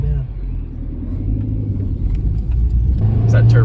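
A 1999 Nissan Sentra pulls away on a test drive, its engine rumbling and rising steadily from inside the cabin, with someone talking over it near the end.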